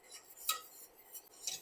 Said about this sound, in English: So keep on stirring continuously, otherwise it just forms like a lump.